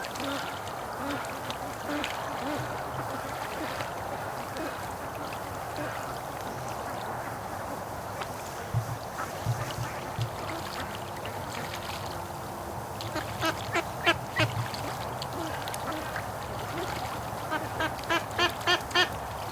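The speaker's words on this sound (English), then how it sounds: "That's a brave duck." Free-range ducks at a lake quack in quick repeated bursts, soft at first, then clustered runs of calls toward the end over steady outdoor wind and water noise.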